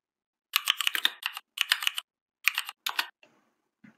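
Someone types git status on a computer keyboard: close, crisp bursts of rapid keystrokes in short clusters, ending with a few isolated taps.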